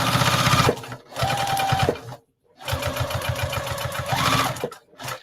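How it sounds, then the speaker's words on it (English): A sewing machine stitches a fabric box in two steady, close runs separated by a brief pause, ending with a short final burst. "No, I'm going to sew right there."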